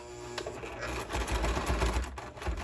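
A sewing machine with a heavy duty needle stitches through a thick tool belt, a dense rapid mechanical chatter running continuously and close, with a few brief knocks.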